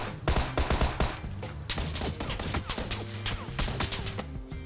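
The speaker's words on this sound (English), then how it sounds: "Oh shit, I'm being shot." Gunfire in the battle royale video game PUBG: a dense burst of shots and impacts piling up over busy game sound, loud and continuous throughout.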